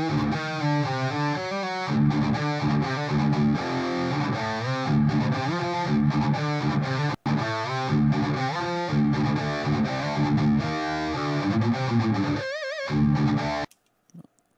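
An electric guitar is played through a high-gain distortion effect, producing a thick, saturated, sustained tone as a steady riff of chords and notes, with a short break in the middle and a clear stop at the end.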